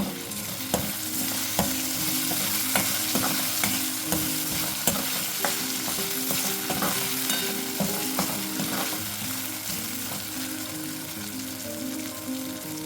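Tomato frying with onion in a pan sizzles loudly and steadily up close, punctuated by regular spatula taps and stirring scrapes, with a low gas-flame hum underneath and no talking.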